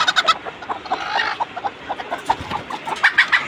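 A native hen clucks in short, repeated bursts, fairly close, with soft background rustling and other fowl murmuring between the clucks.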